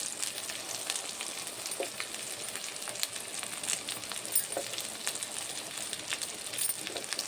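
Masala paste frying in oil with chili powder for a fish curry, a soft continuous sizzle and crackle with faint stirring taps, steady and fairly quiet, no voices.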